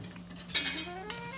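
A spoon stirs melting chocolate bars in a warm pot, giving one brief close scrape against the metal that fades out, with a faint clink afterward.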